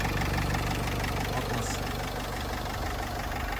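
A 2014 Renault Trafic van's 2.0-litre diesel engine idles steadily with a low, even knocking rhythm, fairly quiet and constant throughout.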